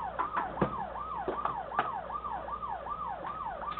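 Wailing alarm siren in the video game Paper Mario: The Thousand-Year Door, a fast, repeating up-and-down whoop that cycles steadily, with a few sharp electronic blips layered over the early part.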